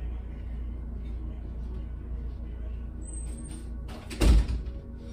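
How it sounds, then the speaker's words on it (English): A room door is shut with a single dull thud near the end, heard over a quiet, rumbling room background. "Close my door."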